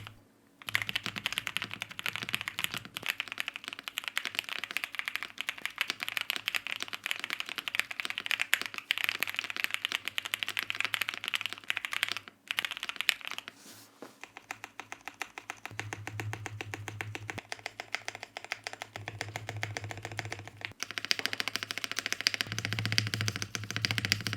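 Continuous rapid clacking of keys on a QK65 mechanical keyboard, close and crisp, with a brief pause midway before the typing resumes.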